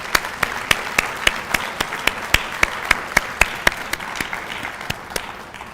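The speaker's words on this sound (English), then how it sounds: "please join me in one more round of applause to everyone who made this possible" An audience at a Black Solidarity Day ceremony applauds with steady rhythmic clapping, crisp regular claps over a wash of scattered hands, sustained and fading slightly toward the end.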